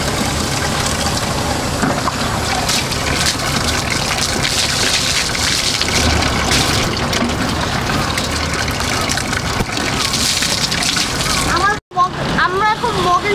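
Mugfuls of water splash over a bicycle as it is washed by hand, a steady close gushing and splattering that runs almost without pause, with a short break near the end and someone talking over it.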